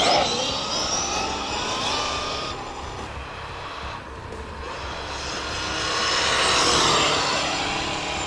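A 12S Arrma Mega Kraton XL RC car at full throttle makes a high, whining electric drive roar that fades and then swells again as it speeds past, continuous and moderately loud, with no talking.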